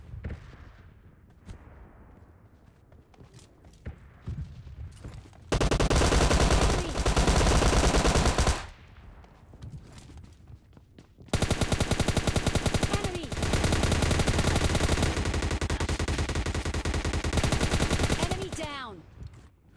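Gunfire in the mobile game PUBG Mobile Lite, two long loud bursts of rapid automatic shots separated by quieter stretches of game ambience and faint talk.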